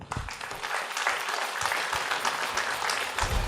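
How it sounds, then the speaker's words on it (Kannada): A gathered audience at a spiritual talk breaks into a loud, sustained round of applause, dense and continuous throughout without a break. "ಎಲ್ಲ ಆತ್ಮಬಂಧುಗಳಿಗೆ ಒಂದು ಜೋರಾದ ಚಪ್ಪಾಳೆ"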